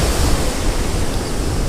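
Ocean waves breaking on a sandbank at a lake mouth make a loud, dense, continuous roar of surf, broadband and unbroken, close to the microphone, with no voices heard.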